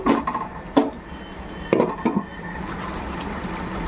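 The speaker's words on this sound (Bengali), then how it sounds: "আমি একটু ঢাকনাটা বন্ধ করে রাখছি।" A metal lid goes onto a cooking pot of mutton fat and spices being fried for ghugni, with a few close clanks and knocks over a quiet kitchen background.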